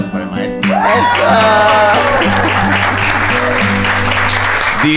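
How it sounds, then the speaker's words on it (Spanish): Applause breaks out for a maestro at a lively Mexican talk-show-style event, a loud steady wash of clapping that swells in quickly and holds, with music tones and voices running underneath. "Un aplauso para el maestro"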